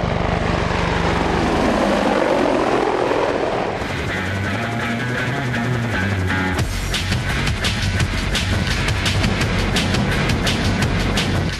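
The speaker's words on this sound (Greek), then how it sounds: "Το Apache Longbow με εντυπωσιακή άνεση κερδίζει ύψος χάρη στους πανίσχυρους κινητήρες" Loud, steady engine roar of an Apache Longbow attack helicopter climbing, with rhythmic rotor chop that shifts and intensifies partway through, no voices.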